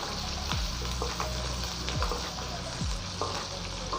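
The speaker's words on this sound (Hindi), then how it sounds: "अब हम इसमें डालेंगे कि जितने खड़े मसाले हैं वो, प्याज हमारी फ्राई हो चुकी है" Whole spices added to already fried onions in a pan for white chana biryani, producing a continuous dense sizzle with scraping stirs at intervals, close and even, no talking.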